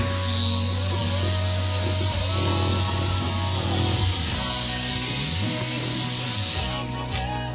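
An Air Hogs toy RC helicopter lifts off from the ground at full throttle: a close, steady buzzing motor whine that dips and then climbs again in pitch, with no talking.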